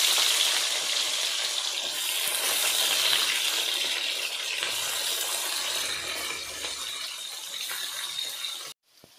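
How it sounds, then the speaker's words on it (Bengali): Cut potatoes fry in white oil in a wok, making a dense, continuous hissing sizzle that runs loudly and evenly before cutting off abruptly near the end. "এবার আমি আলুটা ভেজে নেব।"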